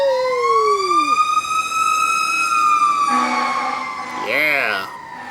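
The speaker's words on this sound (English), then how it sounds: "There comes another fire truck." A fire truck siren wails past, loud and close, its sweeping tone sliding down with the Doppler shift, followed by an air-horn style blast and a quick yelp near the end.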